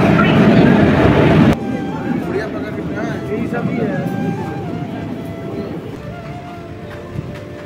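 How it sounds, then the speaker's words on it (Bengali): The Hazarduari Express pulls into platform 3 at a busy Indian railway station, a loud rumbling roar that drops to a steadier low hum of the stopped train and platform bustle, with a person talking over it. "আমাদের হাজারদুয়ারি এক্সপ্রেস চলে এসছে।"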